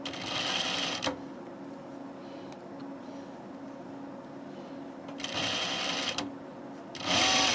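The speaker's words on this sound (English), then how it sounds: "Why am I sewing both edges together?" A sewing machine stitches shirt fabric edges together in short loud bursts of rapid whirring, separated by longer quiet pauses, close and clear.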